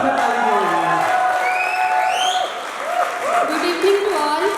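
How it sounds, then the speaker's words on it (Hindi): An audience claps throughout the hall at a company launching ceremony, a steady wash of applause with voices speaking over it. "भाई मेरी बीवी के बारे में ताली ज्यादा बजाना,"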